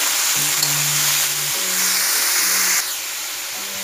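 Bottle gourd pieces fry in a pan with a steady, loud hiss and sizzle, while faint low tones drift underneath and the sizzle eases slightly near the end.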